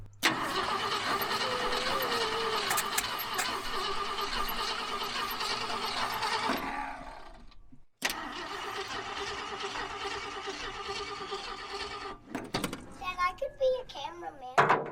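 An old Ford F-100 truck engine cranks over and over without catching, a loud churning grind that pauses, then resumes, with voices talking briefly near the end.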